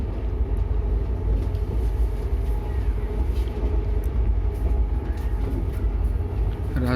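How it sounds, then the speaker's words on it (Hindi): The Patna Rajdhani Express gathers speed, heard from inside as a loud, continuous rumble and rattle of the rolling train with faint clicks, steady for several seconds and without talking. "राजधानी एक्सप्रेस जिस हिसाब से अपनी स्पीड पकड़ रही है"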